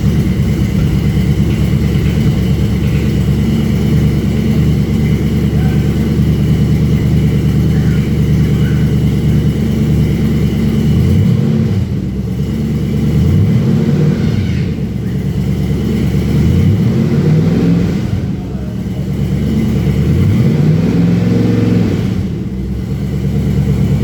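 A Riot Fabworks Ultra4 4600 race buggy engine runs loud and close, settling into a steady idle before several sharp revs rise and fall in quick succession.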